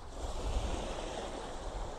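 Waves wash over coral fragments on a beach, a continuous surf wash with soft broadband rattling, moderately close with wind in the background and no voices.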